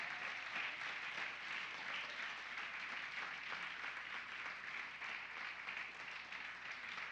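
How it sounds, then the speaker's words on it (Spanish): Church congregation applauding during a Sunday anniversary service, with continuous dense clapping from many hands that is fairly quiet and steady throughout. "Dele fuerte el aplauso al Señor"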